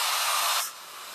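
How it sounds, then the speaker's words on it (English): A small travel hair dryer on its cool setting blows a loud, steady airy hiss close by, dropping abruptly to a softer hiss about halfway through. "Just get my little travel dryer, and I'm going to use a cool setting."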